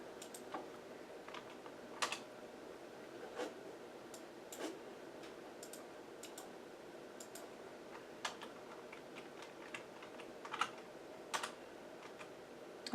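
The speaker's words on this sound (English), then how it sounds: "let me retype it here in Excel" Typing on a computer keyboard while entering a formula into an Excel spreadsheet, with soft, irregular key clicks and occasional louder strokes, close and fairly quiet.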